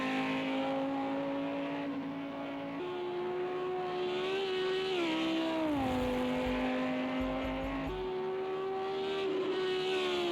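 A GT3 race car in a racing sim climbs through the cutting at Mount Panorama, Bathurst, its engine a steady, loud, close drone whose pitch holds, dips through gear changes and then rises again.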